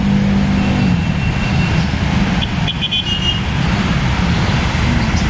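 Heavy road traffic with many vehicles rumbles steadily and loudly close by, with engine drone, a few brief horn toots and revving partway through.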